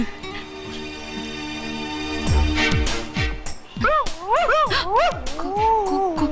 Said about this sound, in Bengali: কুকুরের আওয়াজ না?